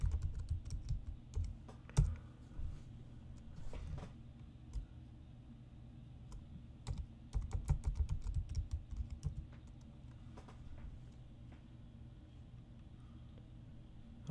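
Fingers type a password on a computer keyboard, producing clustered close-up clicks and key taps in quick runs with short pauses, fairly quiet over a faint background hum.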